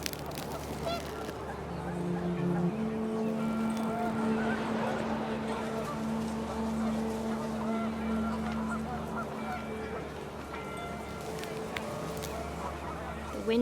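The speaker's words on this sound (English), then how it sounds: "The wind picked up and panicked geese appeared and quickly went." Panicked geese honk in What Remains of Edith Finch, a chorus of repeated honks over wind and a steady low drone, with a voice talking over part of it.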